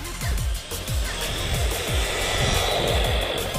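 Two 1/16 scale brushless RC cars drag race, their motors giving a loud high whine with repeated rising pitch sweeps as they accelerate, steady and close throughout.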